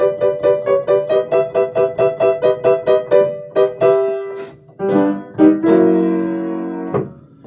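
Secondary theme music for Doctor Puppet, a quirky bossa nova style cue: a bright, bouncy run of evenly repeated pulsing notes, then a fuller sustained chord passage with a swell before it cuts off.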